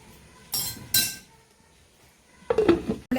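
Two sharp metallic clinks of a lid meeting a pot, then a louder clattering settle of metal on metal a moment later, with quiet between.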